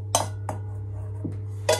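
Measured butter is dropped into a ceramic mug for a microwave cookie in a cup. Four sharp, separate clinks sound close over a low steady hum.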